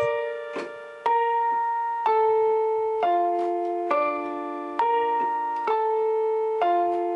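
Piano playing part of a song: slow sustained chords changing roughly once a second, each struck note decaying before the next, close and clear with no talking over it.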